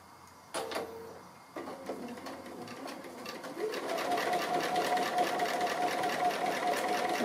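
A domestic sewing machine stitches appliqué, with a couple of short starts and then a steady, fast mechanical whirring that grows louder and continues without a break, close up and with no talking.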